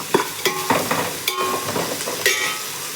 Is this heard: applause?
no